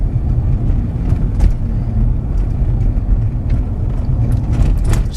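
A 2005 Ford Expedition SUV on the move, heard from inside as a steady low road rumble with engine hum and occasional light bumps and rattles over several seconds.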